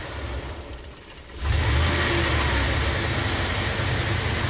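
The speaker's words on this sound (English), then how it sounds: "So I'm going to raise the RPM a little bit manually" A Ram camper van engine, prone to stalling after a hot soak, idles and then rises sharply to a steady, louder raised-RPM drone held close and continuous with no talk.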